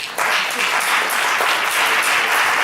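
Audience applause after a round-table discussion at a cultural centre: dense, steady clapping from a crowd that starts abruptly and carries on at full strength.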